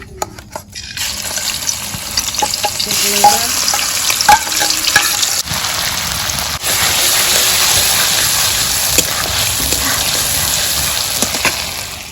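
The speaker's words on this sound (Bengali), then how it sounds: "কড়াইতে তেল দিয়ে দিলাম। রসুন বাটা, শুকনো ঝাল বাটা, আদা বাটা, পেঁয়াজ রসুন দিয়ে দিলাম।" Garlic, dried chilli, ginger and onion pastes frying in oil in a wok for a village-style chicken khichuri, a loud, close, rain-like sizzle with stirring and scraping throughout.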